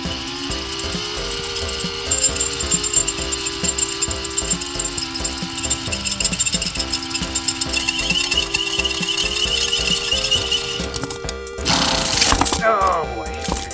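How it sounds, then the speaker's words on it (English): A drill bores holes into a steel armour arm piece in a loud, grinding run of stuttering mechanical squeals and rattles, shifting pitch as the bit bites, then ends in a brief harsh burst. "drilling into this piece was actually a lot easier than drilling into this piece"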